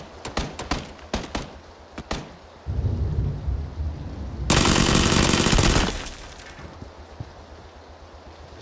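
Gunfire in PlayerUnknown's Battlegrounds: several sharp single shots crack at the start, then a sustained rumbling burst and a loud dense automatic volley before it fades.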